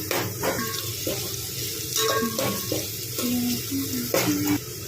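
Onions frying in a pan for a country chicken curry, giving a close, steady crackling sizzle with irregular stirring clatters and scrapes throughout, no voices.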